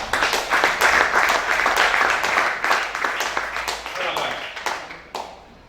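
A church congregation applauds in a dense, steady wash of clapping that fades toward the end, with voices speaking over it.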